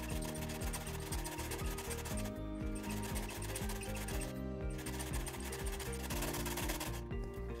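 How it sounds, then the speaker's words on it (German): A sewing machine stitches around a bedside crib bumper padded with volume fleece, a fast steady rattle that stops briefly a few times between seam runs. "Hast du das Volumenvlies befestigt, nähst du einmal rundherum mit 1 cm Nahtzugabe."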